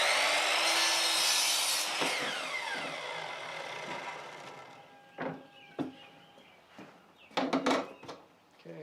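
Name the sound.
sawing 1x4 wooden boards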